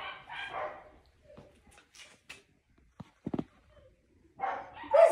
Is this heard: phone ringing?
no